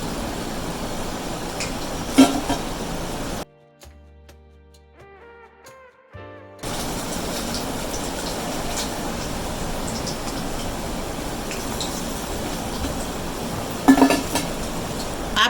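Crispy fried paneer pakoras sizzle and crackle steadily in a hot kadhai of oil, with a brief pause partway through and a few faint clinks against the pan.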